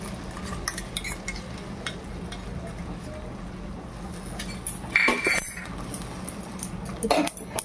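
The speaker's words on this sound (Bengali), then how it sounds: "ভালো করে মশলাটা এখন তেলের সাথে মিশিয়ে দেব" Ground spice paste being stirred into oil in a pan with a metal spoon, soft scraping and a few sharp clinks of utensil against the pan, close and fairly quiet.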